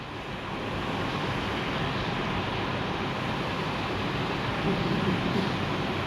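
Vehicle driving in the battle royale game BGMI, a steady broadband engine and rolling rumble that holds evenly loud throughout with players' voices faintly under it.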